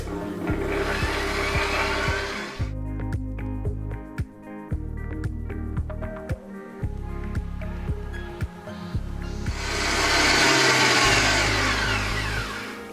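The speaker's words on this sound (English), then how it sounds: "I can put my whisk attachment back on and just give it a couple of seconds more" An electric stand mixer with a whisk attachment beats an ice cream mixture, a steady loud whirring with a fast rhythmic thump, rising in intensity near the start and again near the end.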